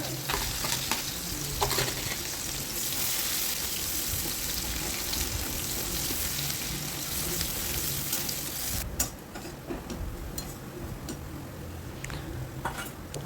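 Chopped onion sizzling in a little oil with whole dried red chillies and whole cumin seeds, a steady close-up crackle and hiss of frying with occasional stirring scrapes and clinks.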